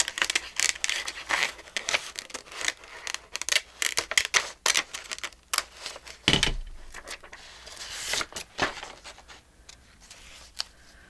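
Scissors cut around a paper sunflower embellishment for a countryside craft journal, giving close, irregular snips, rustles and crinkles of paper with brief pauses between bursts.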